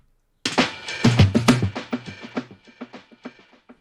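A punchier version of drum fills for a beat-battle track, a quick run of hard hits that starts loud and dense, then thins out and fades over a few seconds, close and alone with no talk.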